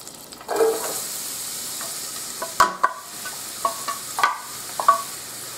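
Food sizzles softly in olive oil in a medium pot over medium-high heat. Several sharp clinks and scrapes of a utensil against the metal cut through the faint frying hiss.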